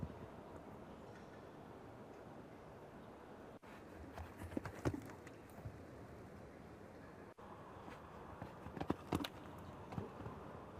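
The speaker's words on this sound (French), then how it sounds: "Le cheval n'a que 8 ans, jeune étalon, le sang de Cassini, celui de Cascavel." Hooves of an eight-year-old show jumping stallion clip-clopping through the indoor arena of the Grand Palais during a CSI 5* class, with a few sharper hoof strikes standing out over steady crowd murmur.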